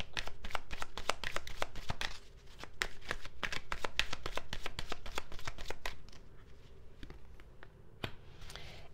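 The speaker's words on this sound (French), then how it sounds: "Je vais juste tirer une dernière carte pour voir." Tarot cards being shuffled by hand, a fast run of crisp riffling snaps and flicks, close and fairly quiet, with a brief pause and then more scattered card clicks toward the end.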